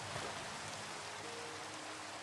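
Faint Minecraft rain patters steadily in the background, a soft, uniform hiss of falling drops with no voices over it.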